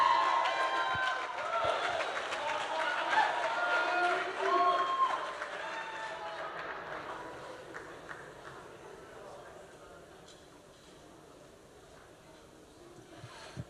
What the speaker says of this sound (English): How about a big round of applause for Paul?